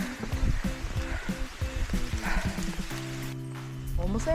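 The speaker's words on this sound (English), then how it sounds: "It is raining." Steady rain patters down during an outdoor hike on Jeju Island, a dense hiss of drops beneath footsteps, with a tonal music-like sound entering toward the end.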